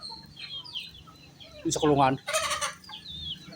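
Chickens cluck loudly and close by in a backyard where ducks and chickens are kept and fed, a short burst of clucking calls, with a person speaking briefly beside them.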